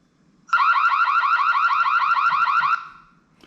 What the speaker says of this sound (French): Et vous pouvez activer donc l'alarme.